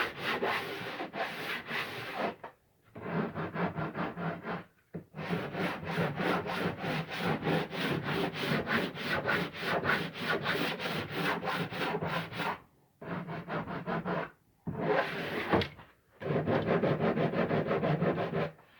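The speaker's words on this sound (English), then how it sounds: "So I've got the sanding block, it's just a piece of plywood with a sanding belt on it." A square wooden door edge is sanded with a homemade plywood block wrapped in a sanding belt. Rhythmic, close, raspy strokes come in long runs broken by brief pauses, with no talking.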